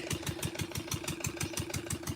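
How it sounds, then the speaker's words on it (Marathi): A Kirloskar engine drives a pump at a farm sewage treatment unit, thumping in a steady, fast idle-like rhythm of regular beats, loud and close with a constant low hum throughout and no talking. "तिथे किर्लोस्कर इंजिनवर एस टी पी सुरू आहे"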